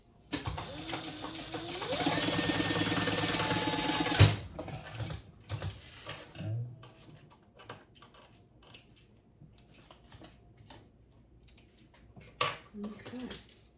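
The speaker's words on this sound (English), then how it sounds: "we're going to sew across the sides" A sewing machine stitches along the sides of a fabric wallet in one steady, loud mechanical run of about four seconds, then stops, leaving scattered small clicks and handling sounds.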